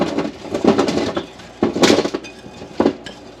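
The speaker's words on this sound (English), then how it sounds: "Spread them on the cookie sheet." Chopped turnip pieces spread by hand across a metal cookie sheet, giving a few sharp clinks and scraping knocks in irregular bursts, close and fairly loud.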